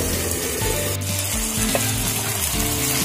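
Chicken sizzles steadily in a hot pan, a loud continuous frying hiss with occasional scraping and stirring noises.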